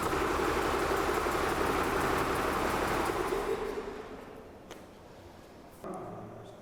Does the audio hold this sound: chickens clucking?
no